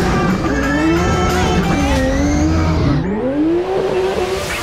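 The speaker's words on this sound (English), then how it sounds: "this is my professional drift car." A loud car engine roars and revs continuously while tires squeal, the pitch sweeping down and back up as the car slides.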